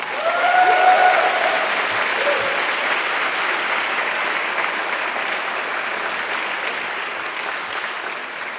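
An audience at the Barcelona GSE 2016 graduation ceremony applauds Pascal Naim-Schmidt with a loud burst of dense clapping that peaks early, then holds steady and slowly tapers over several seconds.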